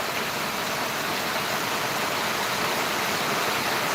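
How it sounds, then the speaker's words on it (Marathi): A constant, loud roar of rushing water from a fast stream near a Kanifnath temple, broad and unbroken from start to finish. "भयानक असा लोंढा पाण्याचा वाहत आहे"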